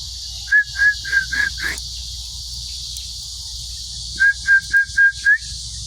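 A bird calls in two bursts of about five short whistled chirps each, separated by a pause, over a steady high insect-like hiss.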